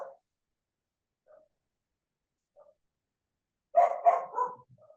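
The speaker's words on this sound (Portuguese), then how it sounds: "esse cachorro deve ser dele" A neighbour's dog barks a few times, faint single yelps followed by a closer cluster of barks, with quiet surroundings in between.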